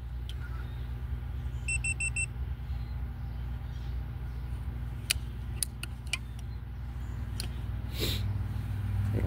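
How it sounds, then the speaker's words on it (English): A piece of equipment beeps after its lid is closed, giving a short series of repeated high electronic tones over steady low hum and background noise, followed by scattered clicks and knocks. "It'll beep at you, but it's okay"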